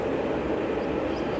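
Aircraft passing overhead at Manchester Airport, a steady broad roar with no clear rise or fall, heard alone without talk.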